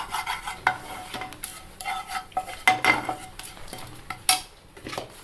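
Turmeric and garam masala being stirred and roasted in a pan for a potato masala curry, with scraping and clinking of a spoon against metal in irregular bursts and a faint sizzle underneath, close and moderately loud.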